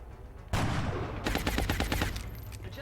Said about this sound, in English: Let's get suppression going on it. Suppression into a precision shot, probably.